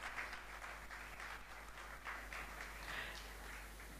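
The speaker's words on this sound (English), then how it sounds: "A big round of applause" Faint applause at a book launch event, a soft, steady patter of clapping heard from a distance over a low hum.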